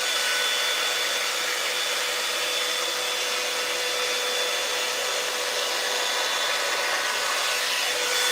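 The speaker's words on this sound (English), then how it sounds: "This is by T3. It's a really good blow dryer." A T3 blow dryer runs continuously at high speed, a loud, even airy whoosh with a faint steady whine, with no one speaking over it.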